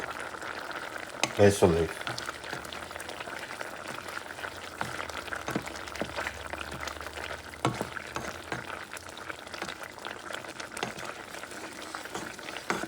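Venison meatballs simmer in a homemade wine sauce in a pan, with a steady low sizzle and bubbling and a brief clatter of stirring near the start. Someone speaks briefly.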